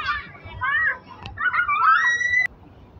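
Children play and shout at a kids playground in Hong Kong Park, their high, lively voices rising and falling nearby, with an adult voice talking among them.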